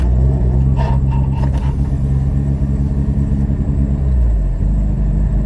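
A K20-swapped Honda Civic drives along in third gear, its engine running as a loud, steady low rumble with a shift in pitch near the end and some faint rattly scraping noises above the drone.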